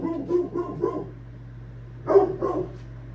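A dog named Daisy barks in two short bursts, three quick yips at first, then after a pause a louder pair of barks, fairly close over a low steady hum.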